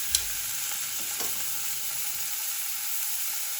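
A fillet steak sizzles steadily in a frying pan, and a short clatter marks the moment it is turned over. No voices are heard.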